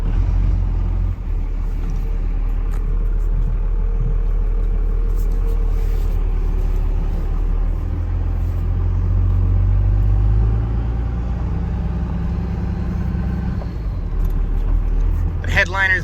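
An old Cummins diesel truck engine idles with a deep, steady low rumble that fills the whole stretch, a person's voice speaking briefly over it.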